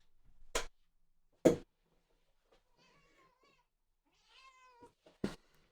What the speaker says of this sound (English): We have a kitty that would like to leave the room.